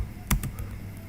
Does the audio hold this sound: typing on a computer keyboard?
yes